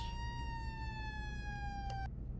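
An emergency vehicle siren in Flashing Lights wails with a steady, slightly falling tone over a low rumble, cutting off abruptly near the end with a click.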